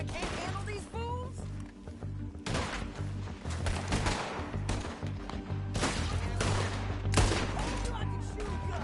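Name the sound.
gunfire in video game Red Dead Redemption 2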